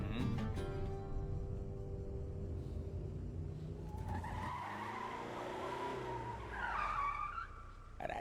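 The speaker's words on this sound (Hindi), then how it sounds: "गाड़ी जरा लेफ्ट साइड में लगा दे।" Car pulling over to the left side with tires skidding, a loud close squeal and rumble that shifts pitch as the vehicle slows.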